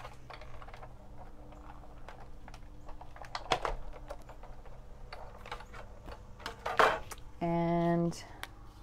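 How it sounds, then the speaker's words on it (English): A die cutting machine feeds paper through during a gift box and card holder papercraft project, preceded by clicks and handling noises, then a short steady mechanical whir near the end while someone talks quietly. "I'm going to run this through my die cutting machine"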